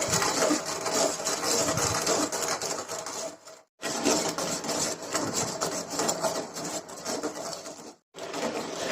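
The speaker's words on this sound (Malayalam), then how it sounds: "നമ്മൾ ഈ ഷുഗർ മെൽറ്റ് ആവണ വരയ്ക്കും നന്നായിട്ട് മിക്സ് ചെയ്തുകൊണ്ടിരിക്കണം" Sugar being stirred in a pan over a flame until it melts, for bread gulab jamun syrup; continuous close scraping and rubbing of the spoon against the pan, with two brief pauses.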